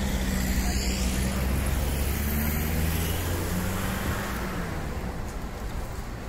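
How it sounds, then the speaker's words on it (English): Steady outdoor street traffic with many cars passing close by, a dense continuous roadway roar with wind buffeting the microphone throughout, no talking. "It's quite noisy again, a lot of cars, it's a bit windy"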